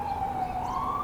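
An ambulance siren on a New York City street near Maimonides Medical Center sounds as a steady, loud wailing tone that rises slightly in pitch, heard alone without talk.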